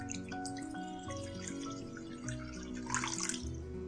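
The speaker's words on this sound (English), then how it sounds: "Let's add in water." Water pours into a pot on a lit stove for Kashmiri kahwa tea, a close, splashing trickle with drips and small clinks, louder near the end.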